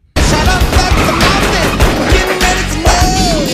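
Loud, dense bursts of gunfire and booming explosions from a GTA V trailer crash over each other with a music-like swell, continuous and intense from start to finish.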